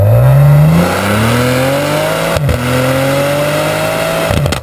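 Tuned 2015 Maserati Ghibli S Q4 with a 3-litre twin-turbo V6, its exhaust rising loud and close then easing off, with rumbling overrun and a couple of sharp crackles and pops near the end.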